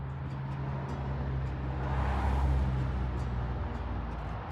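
A car passes along a residential neighborhood street in Cincinnati at night, a steady low rumble that swells to a peak midway and fades again, with a faint background hum of distant traffic.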